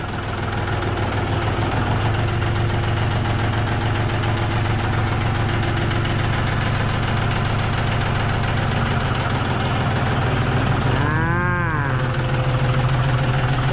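A 40-horsepower engine runs steadily at idle for most of the stretch, a constant loud mechanical drone, then revs briefly near the end with a rising and falling pitch before settling back to idle.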